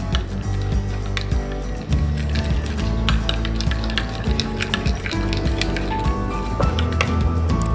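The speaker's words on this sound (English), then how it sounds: "Then I'm going to use some jalapenos. These are chopped. And I'm just going to stir that in." Chopped jalapenos are stirred into mushrooms frying in a pan, a loud close sizzle with scraping and squishing stirring strokes throughout, no talking.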